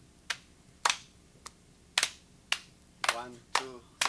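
Sharp, separate hand claps in a clapping game, about eight crisp slaps in an uneven rhythm, close and distinct, with a voice speaking between the later claps.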